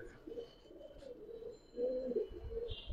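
Giribaz pigeons of army, khaki and silver colouring coo softly in a loft, several low murmuring coos overlapping faintly at close range.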